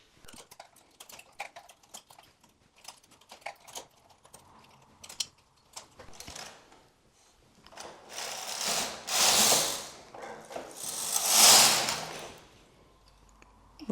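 A knitting machine working rows of a cardigan at the neckline: scattered clicks and ratcheting taps at first, then two loud, long whooshing carriage passes close by, with no talking.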